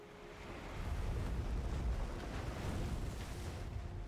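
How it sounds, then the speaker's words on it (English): Stormy ocean waves in a video game roar as a continuous, dense wash of surf and wind, building slightly and holding steady at moderate loudness with no talking. "The sound of stormy waves came from the suddenly broken mirror."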